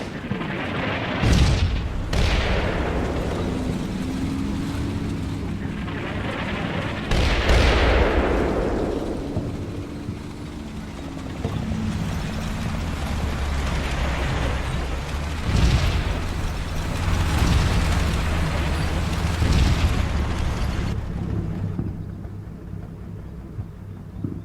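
In the Combat Mission wartime game, an artillery battery fires, landing a series of heavy booms and explosions that roll out and echo at irregular intervals over a constant rumbling battlefield backdrop.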